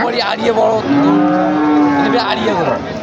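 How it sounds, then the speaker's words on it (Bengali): A tall, large bull at a cattle market gives one long, loud moo close by, drawn out for over a second, with a few faint voices around it. "দেখার মতো গরু একটা"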